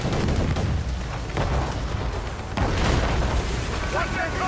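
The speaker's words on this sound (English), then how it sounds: "Mortars incoming, Shay!" Mortar fire from enemy ships explodes in Assassin's Creed Rogue during a naval battle, deep booms and crashing blasts over a constant roar of sea and wind, with voices underneath.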